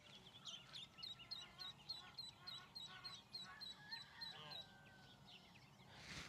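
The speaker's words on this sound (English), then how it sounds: "I'm fixing to play that baby duck call and see if we can get any reaction" A recorded baby duck call plays outdoors near water, a run of rapid high peeping chirps repeated over a few seconds, fairly faint against low background noise, with soft voices murmuring underneath.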